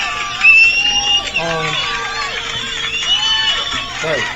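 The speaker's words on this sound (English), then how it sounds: "I like when they clap." A crowd cheers, whoops and claps at a podcast taping, a loud mix of shouting voices and clapping that continues throughout, with voices prominent over it.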